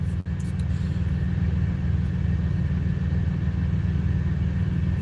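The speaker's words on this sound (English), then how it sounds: "It's kind of making some noise, like when you turn it on, it almost sounds kind of like an airplane engine a little bit." A Prime Inc. semi truck's engine runs with a steady, deep droning rumble that some liken to an airplane engine. The sound is close and constant, with one brief click near the start.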